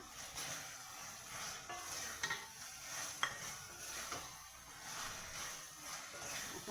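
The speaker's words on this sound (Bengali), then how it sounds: "এখন এটা আমাদের পটলগুলো দিয়ে দেবো। ভাজা পটলগুলো" Fried pointed gourd stirred in a hot pan for potol posto, a steady close sizzle with scraping spatula strokes running throughout.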